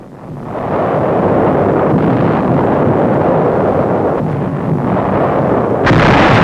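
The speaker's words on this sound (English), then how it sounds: "General Buckner, commander of the new U.S. 10th Army, observes the naval bombardment" Naval bombardment shelling from 1945 World War II newsreel footage, a loud continuous rumbling roar of distant heavy guns with a sharper burst near the end.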